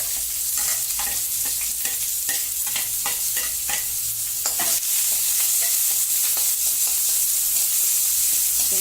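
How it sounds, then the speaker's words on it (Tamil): Chopped onions sizzle steadily in a hot pan with curry leaves and cumin while a utensil scrapes and stirs them in repeated strokes, close and continuous. "2 வெங்காயம் நறுக்கி வச்சு அதை சேர்த்துக்குங்க."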